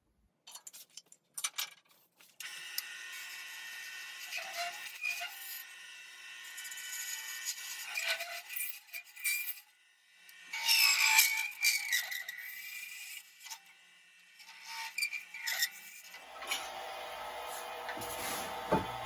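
Hand tools scrape and rasp against a wooden spintop as it is hollowed out, giving irregular bursts of scraping and rubbing with short pauses and faint clinks between passes, close and fairly quiet.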